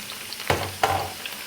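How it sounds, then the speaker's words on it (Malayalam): Chopped onions sautéing in hot oil in a pan, with a steady close sizzle and two louder bursts as they are stirred or added, with no one talking. "നന്നായിട്ടൊന്ന് വഴറ്റി കൊടുക്കാം"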